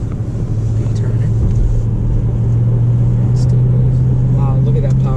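Bentley Continental GTC accelerating through a turn, its engine a steady, loud low drone that swells into a sustained hum while a person talks over it throughout.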